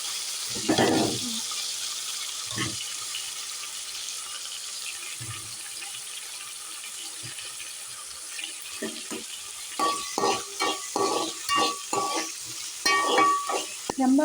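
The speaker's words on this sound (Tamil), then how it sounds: "நம்ம எல்லாத்தையும் மொத்தமாக போட்டு வதக்கிடலாம்." Onion, tomato and curry leaves sauté gently in a pan for a fish curry, a soft steady sizzle with scattered stirring scrapes that turn into quick, clustered clatters toward the end.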